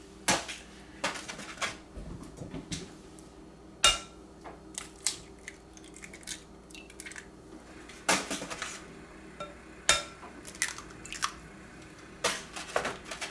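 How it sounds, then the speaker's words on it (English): Eggs cracked one after another into a bowl for a steak and potato frittata: sharp, quiet shell taps and clicks recur in an irregular rhythm, with faint wet drips and clinks against the bowl in a quiet kitchen. "We're just going to crack them into the bowl"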